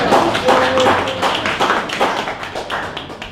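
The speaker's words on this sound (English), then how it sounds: "You can give yourselves a round of applause too." A meeting audience at an LA Kossacks gathering gives a round of applause, dense steady clapping that fills the room and fades slightly toward the end, with a brief tonal murmur early on.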